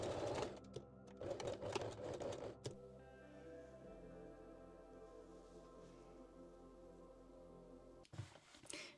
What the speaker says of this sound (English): Just a few stitches forward and backward.